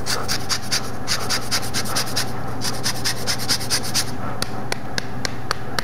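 Blood orange zested with a fine grater over grilled Arctic char on a Big Green Egg, a rapid train of short scraping rasps, close and steady, over a low background hum.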